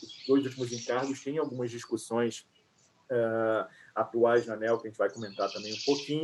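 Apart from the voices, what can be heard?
bird singing near an open microphone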